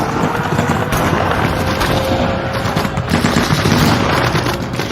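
Enemy guards in the north buildings open fire during a night raid, sending rapid, dense bursts of gunfire that crackle continuously and loudly with no pauses.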